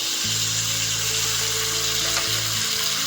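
Tomato, ginger and garlic paste with ground coriander and cumin sizzles steadily in hot oil in a pan for a fish curry, a constant loud hiss over a low motor-like hum, with no talking.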